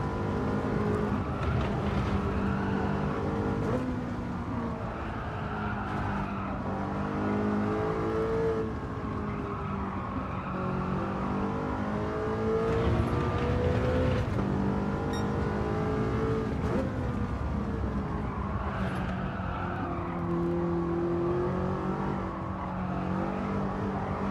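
Race car engine in a video game time trial, revving hard under throttle with a continuous loud whining drone that rises and falls as the car accelerates and shifts through the lap.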